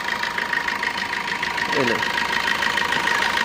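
A car engine idles steadily with a constant low hum and faint rhythmic knock, close by, while a person talks over it briefly.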